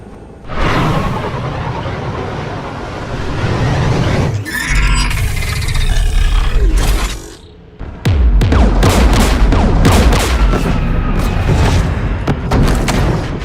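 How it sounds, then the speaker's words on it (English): Geth anti-aircraft guns firing in Mass Effect Legendary Edition: loud booming blasts and heavy rumbling volleys, a brief lull, then dense rapid crackling bursts over a continuous roar. "We're taking fire. The Geth installed anti-aircraft guns beside the jamming tower."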